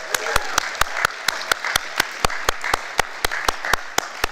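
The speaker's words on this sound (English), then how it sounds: "Thank you for a round of applause." Audience applause at a poetry reading during the Tucson Humanities Festival, heard as a steady run of sharp, evenly spaced claps from a room crowd, fairly close and continuous without talk.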